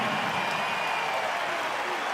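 Basketball crowd at a Perth Wildcats vs Cairns Taipans NBL game applauding and cheering after a Bryce Cotton basket, a steady broad roar of clapping and voices filling the arena.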